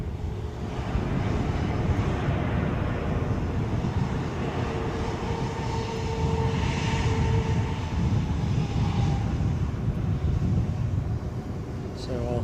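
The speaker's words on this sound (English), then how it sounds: "737 inches forward onto the blocks" A Boeing 737 bound for Tenerife taxis forward onto its stand at Edinburgh airport, its jet engines giving a steady, close, loud rumble and whine throughout.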